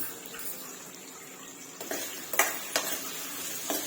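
Potatoes and green chillies are stirred in hot oil, a soft continuous sizzle broken by a few sharp scraping clacks of the spoon against the pan toward the end.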